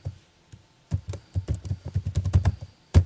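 Close, crisp keystrokes on a computer keyboard while C++ code for a multiplication-table program is typed, bursts of taps picking up into a steady run, with no talking.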